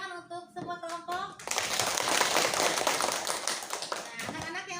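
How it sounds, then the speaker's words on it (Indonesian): Schoolchildren in an Indonesian classroom break into loud, sustained applause after group presentations in a lesson on congregational prayer, filling several seconds after a brief stretch of speech at the start. "Tepuk tangan untuk semua kelompok."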